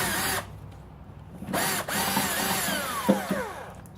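A cordless drill fitted with a socket adapter spins out 10mm bolts from the rear turn signal housing of an Infiniti QX60/JX35, with several short whirring bursts, the final one winding down in a falling whine, close up.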